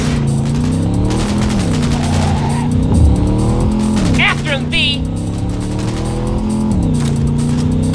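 Racing car in Cyberpunk 2077 roars loudly with a steady, shifting engine drone, tires squealing through a sharp bend, while someone speaks over the action.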